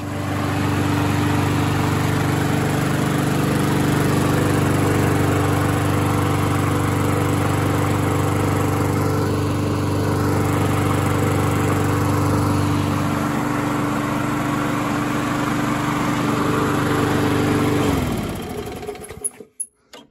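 Bolens lawn mower engine running steadily, loud and close with a constant droning hum and whine, dropping in pitch near the end before cutting off into silence.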